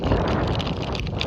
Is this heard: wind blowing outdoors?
yes